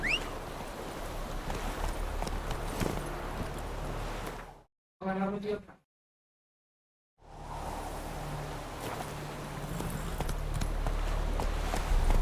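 Roach the horse's hooves clip-clop steadily in The Witcher 3 over a bed of ambient game noise, cutting briefly to near silence in the middle before the hoofbeats resume.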